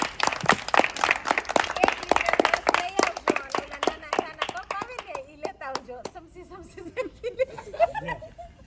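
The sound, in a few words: applause, people clapping to welcome someone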